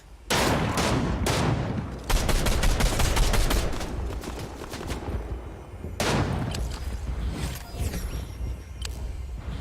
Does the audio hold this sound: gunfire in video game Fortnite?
yes